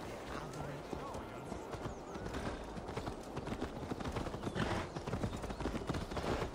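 Horse hooves clip-clop steadily while riding through a field in Assassin's Creed Valhalla, a fast rhythmic trot under a voice talking over them.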